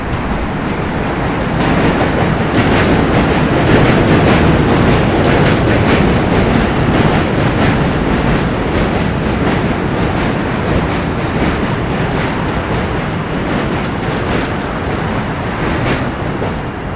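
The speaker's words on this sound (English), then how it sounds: "I hear a train." Train passing close by on a New York City line, a loud steady roar of wheels and rumbling cars lasting throughout without pause.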